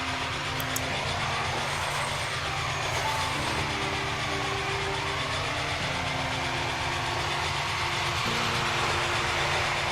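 A train passes in the Transport Fever video game, a steady low engine rumble with shifting tonal hums and a faint high whistle early on, moderately quiet and continuous, with no talking.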